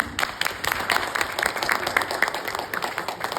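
Wedding guests at a Turkish civil marriage ceremony break into sustained applause, a dense wash of many hands clapping at close to moderate distance with no talk over it.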